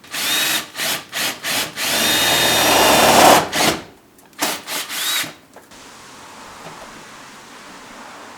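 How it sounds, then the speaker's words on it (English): Power drill boring rivet holes through car overfenders on a Nissan 240SX, several short whining bursts and one longer sustained run, close and loud, then quieter background noise. "you start drilling the holes for the rivets"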